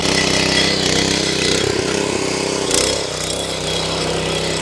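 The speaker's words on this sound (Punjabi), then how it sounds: "ਛੋਟਾ ਟਰੈਕਟਰ ਉਹ ਆ ਜਿਹੜਾ ਪਹਿਲੀ ਰੱਸੀ 'ਚ ਸਟਾਰਟ ਹੋ ਗਿਆ" A small mini tractor just started by pull cord, its tiny engine running loud and close in a steady, chugging idle with a rough, throbbing rhythm and a brief revving flutter.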